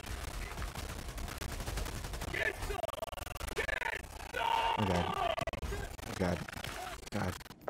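A sentry turret in Helldivers 2 lets off rapid bursts of gunfire amid explosions and battle noise, with voices shouting over the chaos.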